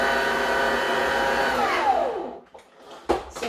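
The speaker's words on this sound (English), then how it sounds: "just whisk until everything is properly incorporated" An electric whisk mixes buttercream with a loud, steady motor whir, then spins down with a falling pitch into near quiet before a brief clatter at the end.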